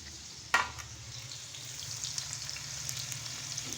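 Paneer with green chillies frying in a pan, giving a continuous soft crackling sizzle after a sharp knock near the start, fairly quiet and close with no voices.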